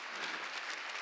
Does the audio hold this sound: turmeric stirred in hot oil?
no